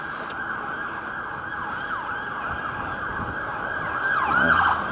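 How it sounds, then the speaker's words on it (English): An ambulance siren wails in rising and falling sweeps over road traffic near Blackpool Pleasure Beach, growing louder as it draws nearer toward the end. "That's just an ambulance going up again."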